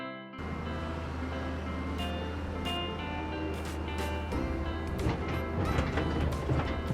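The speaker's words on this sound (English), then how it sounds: "Excavator" A construction excavator at work, with a steady low engine drone under repeated metallic clanks, knocks and mechanical rattles that grow busier toward the end.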